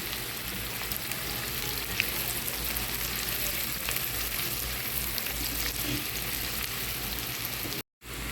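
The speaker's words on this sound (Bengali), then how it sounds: "পেঁয়াজটা বাদামি করে ভেজে মাছের উপরে দিয়ে নেব" Onions browning in hot oil for hilsa fish dopiaza sizzle steadily, a dense, even crackling hiss close by that runs throughout with a brief dropout near the end.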